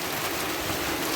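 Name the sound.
heavy rain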